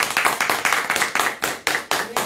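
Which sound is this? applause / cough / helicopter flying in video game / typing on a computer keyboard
applause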